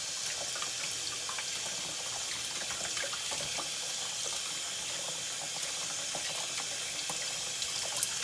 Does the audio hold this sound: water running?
yes